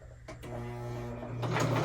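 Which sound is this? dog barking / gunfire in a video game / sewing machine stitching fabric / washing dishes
sewing machine stitching fabric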